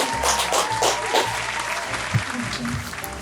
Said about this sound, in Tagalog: Palakpak naman kay Lord dyan.